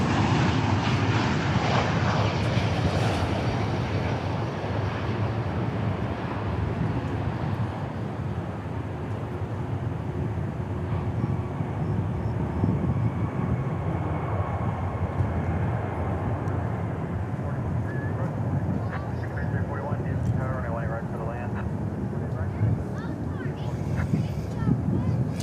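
An Aeromexico airliner at DFW Airport gives off a continuous jet rumble, fairly loud and steady for the whole stretch, with wind buffeting the microphone and a voice speaking now and then.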